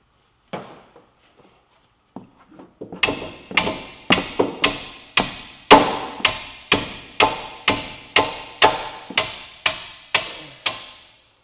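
Metal tool struck as a hammer during CV axle replacement on a 2011 Dodge Durango: a few scattered taps, then about sixteen loud, evenly spaced ringing metallic blows close by, each decaying quickly.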